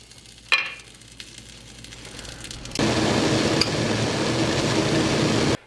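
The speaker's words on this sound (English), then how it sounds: "Let this come up to a boil" Sugar, salt and lime liquid heats in a pot to a boil for a smoked spatchcock chicken outdoors. A faint bubbling comes after a clunk, then a loud steady sizzling, rolling hiss takes over.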